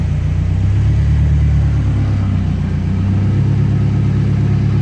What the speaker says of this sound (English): A little bit of surging just because still need to work on the tune a bit more.